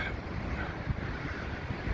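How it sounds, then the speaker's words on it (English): Strong, cold wind buffets the microphone on the Blackpool promenade in early December, a steady low rushing roar with gusty thumps and no voices. "But it really is that windy."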